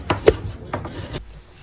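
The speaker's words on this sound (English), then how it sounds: "This is a Japanese planer." Several short rasping strokes of a Japanese hand plane shaping wood for a spear, close by, with brief pauses between passes.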